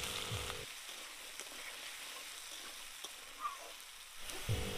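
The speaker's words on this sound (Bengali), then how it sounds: "এবার একটা কড়াইতে সর্ষের তেল দিয়ে আলুগুলোকে ভালো করে ভেজে নিন।" Cut potatoes fry in hot mustard oil in a wok, a steady, even sizzle and crackle running throughout with faint stirring, no voices.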